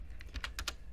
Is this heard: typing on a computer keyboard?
yes